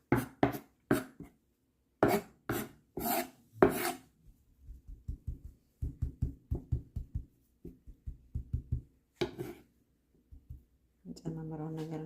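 Collard greens being chopped with a knife for Ethiopian gomen kitfo: bursts of rapid, sharp blade strikes on a cutting board, with quick rhythmic runs of lighter cuts between louder chops, close and clear.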